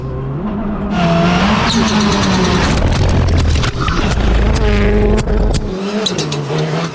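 A 380HP Mitsubishi Mirage rally car, slightly damaged after a hard jump landing, powers around a dirt rally course, engine revving and rising through gears with brief tire squeal, loud and close, with no talk.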